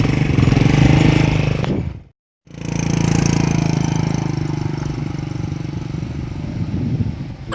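A motorcycle engine running steadily at a close, loud idle, cut off by a brief dropout near two seconds and then resuming its even drone.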